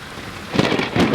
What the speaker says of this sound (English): Oh, this storm is scary.